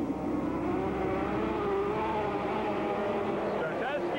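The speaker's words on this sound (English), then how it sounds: "Gets a jump on Moosebach as he's out in front in car 40." Race cars roaring through a heat on a short track, a dense engine drone with rising revs heard under a commentator calling the positions.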